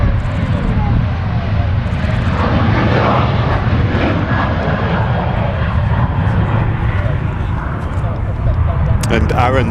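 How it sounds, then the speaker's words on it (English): Jet aircraft taking off at Manchester Airport, a loud, steady engine roar throughout the takeoff roll, with people talking over it. "Jet 273 on the roll."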